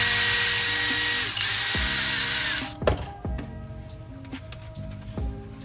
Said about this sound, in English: You don't want to drill too much, or you could melt the prints or make the hole too big.